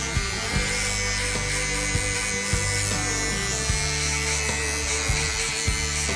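A small electric hair clipper buzzes steadily and close by during a George Clooney style haircut, with faint snips and taps recurring throughout and no talking.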